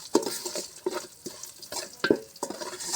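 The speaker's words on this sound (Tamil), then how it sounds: "எல்லாம் நல்லா வதங்கிருச்சு" Spices and vegetables sauté in a pan for sambar. A spoon scrapes and stirs them in a quick irregular rhythm of clinks over a soft, close sizzle.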